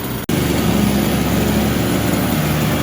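The two-stroke gas engine of a Redcat Rampage XR rally car runs steadily at idle, a loud, close, buzzy drone that keeps going without a break after a brief cut at the start.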